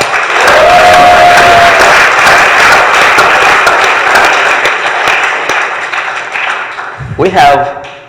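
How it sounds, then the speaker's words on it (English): Loud audience applause fills the room, with a brief tone and some cheering early on, tapering off before a short burst of voices at the end. "let's give them a round of applause for their vision"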